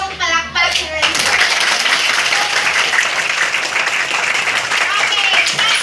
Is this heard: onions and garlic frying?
no